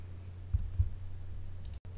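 Two quick computer mouse clicks, close and fairly quiet, spaced about a quarter second apart over a low steady hum, with a brief dropout near the end.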